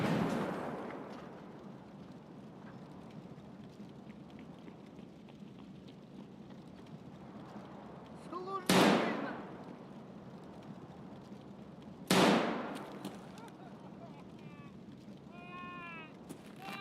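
Two sharp gunshots in a firefight between players in Escape from Tarkov, each a loud crack with a short echoing tail, several seconds apart over a quiet, rain-like ambient hiss.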